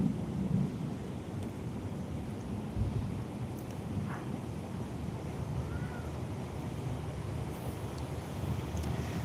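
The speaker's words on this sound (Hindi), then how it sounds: "देखियो मेघ का आवाज।" Low thunder rumbles steadily beneath continuous rain and wind noise outdoors, a dense, broad roar without clear individual claps.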